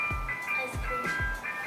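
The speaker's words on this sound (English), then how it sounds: "I hear the ice cream truck." An ice cream truck's jingle plays outdoors near a dirt bike, a looping chime melody with steady tonal notes, moderately loud and continuous, with no talk over it.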